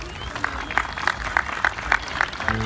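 An audience at an Erzurum community cultural evening in Akhisar claps for Müslüm Eren, with sharp, evenly spaced beats in rhythmic unison over a low, steady crowd murmur.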